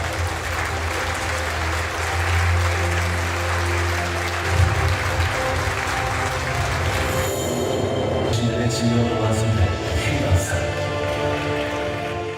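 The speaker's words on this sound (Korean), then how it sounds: "박수로 맞이해 주시기 바랍니다" Steady applause from a large audience fills the clip, dense and continuous clapping that swells slightly midway and carries on without a break.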